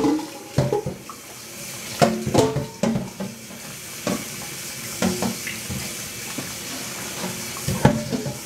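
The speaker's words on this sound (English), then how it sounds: "I'm gonna get my water started" Water runs from a kitchen tap during dishwashing, a constant splashing stream broken by clinks and clunks of dishes and pans knocking in the sink.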